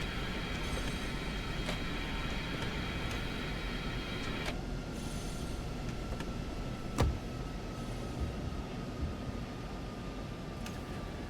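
Electric locomotive DB BR 111 in a train simulator game runs steadily with a continuous broadband rumble, faint tonal whine and occasional sharp clicks of the wheels over rail joints, no voices.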